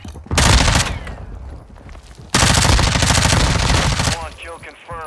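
Sustained bursts of automatic gunfire in a shooter video game, two long loud fusillades of rapid close shots separated by a short gap, with game sound effects afterward.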